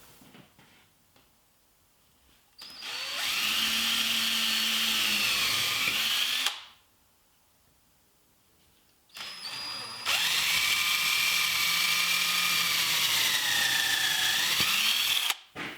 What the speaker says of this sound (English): next I'll drill and countersink holes